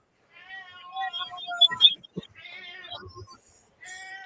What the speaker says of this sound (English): And that's my cat, everyone.